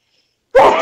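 One sharp sneeze bursts out suddenly after near silence, close and loud, during a live stream.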